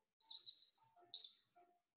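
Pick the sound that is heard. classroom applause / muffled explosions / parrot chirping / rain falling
parrot chirping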